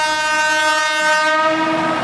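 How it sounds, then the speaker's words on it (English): Park transport train in Taiwan passing close by, its loud horn sounding as a sustained multi-tone blare over the rumble and rattle of the cars, with no voices. "They have the trains to get around here"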